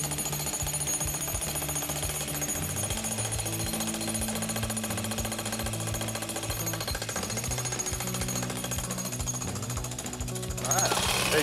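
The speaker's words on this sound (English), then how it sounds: "We may not need this jackhammer." A jackhammer pounds steadily and loudly at close range, breaking up brick steps and concrete slabs for a family deck project, its rapid hammering continuous throughout and slightly intensifying at the end.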